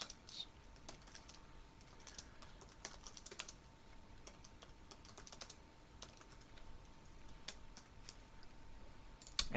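Quiet, close typing on a computer keyboard as a text note is added in drawing software, a steady patter of light key clicks with brief gaps, over faint background hiss.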